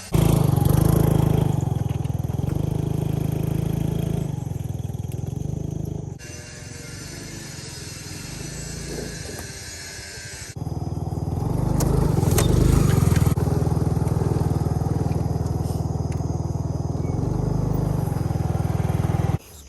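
A motorbike revs and labors through deep sand off-road on a durian farm in Thailand, its engine loud and close with a rough, steady drone, dropping away in the middle before surging back.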